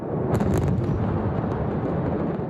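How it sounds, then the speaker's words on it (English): Ammonium nitrate detonating at a dockside warehouse in Beirut, heard as a heavy, sustained booming rumble with a sharper burst near the start, loud and continuous, with no talk. "a huge cache of ammonium nitrate detonated in a dockside warehouse"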